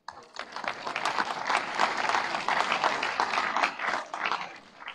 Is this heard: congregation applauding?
yes